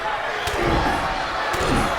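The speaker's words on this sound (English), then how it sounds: "Big head bust there by Carter Goldman." Wrestling head butt impacts in the ring during a CWA901 event, two sharp thuds about a second apart cutting through loud, constant crowd noise and commentary.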